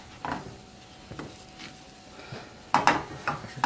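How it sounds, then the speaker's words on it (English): Heat-resistant spatula scraping and stirring eggs in a frying pan, giving sparse, separate scrapes and light clanks against the metal, close up and with no talk. "Just keep stirring it"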